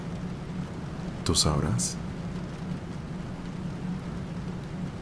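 Steady rain falls continuously outdoors as a broad, even hiss, with a brief spoken phrase from a nearby voice over it.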